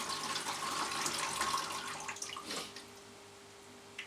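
Fresh water poured over the wet roots of a Cattleya orchid during repotting in sphagnum, a steady close splashing for about two seconds that thins into trickles and drips.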